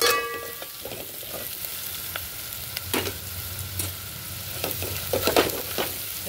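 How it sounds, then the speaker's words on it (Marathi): Spice paste of garlic, coconut and garam masala sizzles steadily in hot oil, with soft scraping stirs and occasional spatula clicks; no voices. "ते वाटण आता आपण चांगलं परतून घेणार आहे तेलामध्ये"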